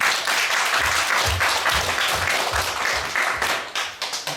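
A church congregation claps together during a Korean worship service, a loud, continuous wave of applause that tapers into scattered final claps.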